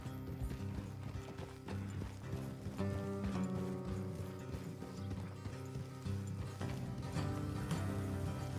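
Horse hooves clip-clop steadily in Red Dead Redemption 2 over dense game music and ambient sound, the rhythmic clopping partly buried in the mix.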